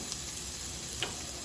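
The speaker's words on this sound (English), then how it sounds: "our onions and our garlic. And now we are going to add just a little bit of oil" Onions and garlic sauté in a little oil in a pan while cooking chicken piccata, a faint soft sizzle with a couple of small ticks, quiet and steady with no voices.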